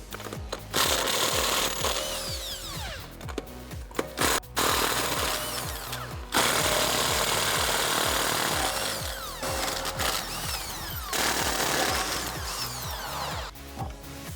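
A power tool rattling loud and close in repeated bursts of several seconds each, with short pauses between them, as the wheel is removed from a 2005-2014 Ford Mustang.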